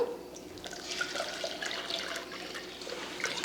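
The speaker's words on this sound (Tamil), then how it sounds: "இப்போ வடிகட்டிடுவோம்" Freshly blended juice poured through a strainer for an iftar drink, a steady close trickle and splash of liquid running continuously with faint dripping, no voices.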